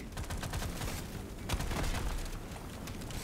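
Automated turrets firing in the roguelike shooter Deep Rock Galactic Survivor: rapid, continuous staccato bursts of gunfire layered with booming impacts, loud and busy across the whole stretch with no talking.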